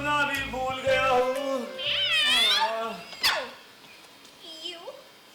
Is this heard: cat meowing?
yes